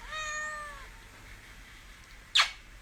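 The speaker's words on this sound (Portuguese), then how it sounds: "Esse miau foi um sim ou um não?" A house cat gives a single drawn-out meow up close at the start, followed by quiet room tone and a brief sharp noise near the end.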